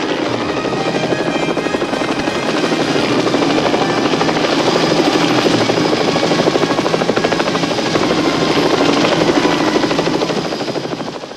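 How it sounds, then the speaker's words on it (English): A helicopter in the film The Stuntman rising from beneath a bridge, its rotor chopping in a steady rapid beat over a loud engine whine, close and continuous throughout with no voices. "the helicopter comes up from beneath the bridge"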